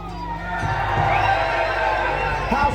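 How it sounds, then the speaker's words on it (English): A large outdoor crowd at Warwick Castle cheers loudly and steadily for House Lancaster during a Wars of the Roses show, with children's shouts mixed into the sustained roar. "House Lancaster, cheer if you would follow a warrior queen."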